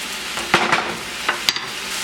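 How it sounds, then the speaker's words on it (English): Onions and garlic caramelizing in a pan with soy sauce and Worcestershire sauce, making a soft, steady sizzle broken by a few sharp utensil scrapes and clacks. "We're just going to cook these onions and garlic down until they are caramelized in the soy sauce"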